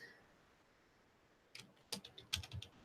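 Computer keyboard typing during a live online show, a quick run of faint, close clicks and taps that starts partway through after a quiet stretch, with no voices.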